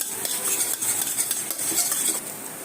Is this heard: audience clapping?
no